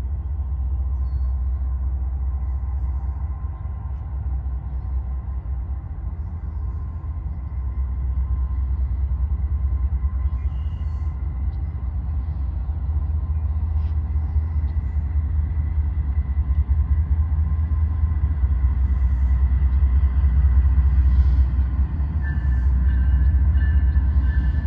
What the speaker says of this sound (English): we got CN731 coming westbound through Sarnia,